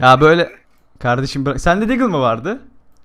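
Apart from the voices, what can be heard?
No everyday noises stand out.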